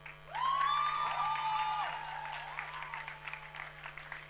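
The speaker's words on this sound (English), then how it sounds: "another round of applause for May" Audience applause with cheering and a high whoop at a festival music program in Italy, the crowd sound rising quickly, then fading into scattered claps and chatter.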